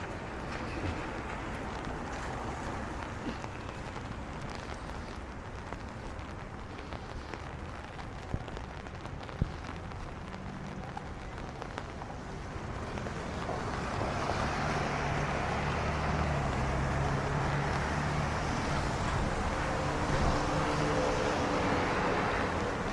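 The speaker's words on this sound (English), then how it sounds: "So raining hard enough to stay in." Heavy rain falls outdoors in the West End restaurant district of a downtown Canadian city, a steady close broadband hiss that grows slightly louder and denser partway through, with no voices.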